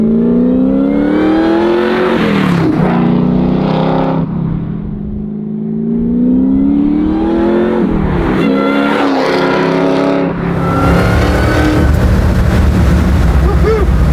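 A supercharged Chevy Camaro pro-touring build's engine revs loudly and close, rising and falling through several throttle blips over a constant rumbling idle.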